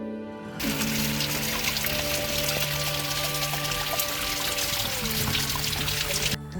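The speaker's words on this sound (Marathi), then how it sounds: "थंडगार पाणी पण भरून घेतलंय" Cold water from a small waterfall on a fort trek in Pune district pours steadily into bottles, a close, continuous rushing splash that runs unbroken for about six seconds with no voices.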